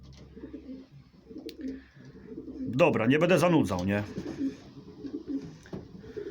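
A racing pigeon gives a soft, throaty coo close by, rising and falling once, while someone talks before and after it.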